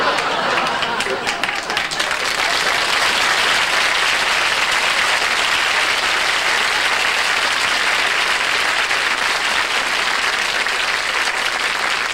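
A television comedy-variety studio audience breaks into sustained, loud applause, a thick continuous roar of clapping that stays strong from start to finish, with a few louder claps near the beginning.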